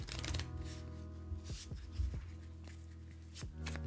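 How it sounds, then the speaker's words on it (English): Cards from a KeyForge deck being shuffled by hand on a table, a continuous close riffling rustle with several sharp snaps as the stacks flick together. "Let me take a second to shuffle everything up."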